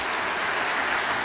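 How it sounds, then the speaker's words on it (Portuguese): A church congregation applauds during an evening service, a dense, continuous wash of clapping from many hands filling the room with no voices over it. "Aplauda o Senhor nessa noite"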